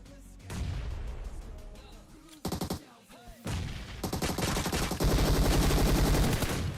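Mobile shooter game combat with dense bursts of automatic gunfire and explosive blasts that come in sharp volleys and then a long sustained barrage, loud and close.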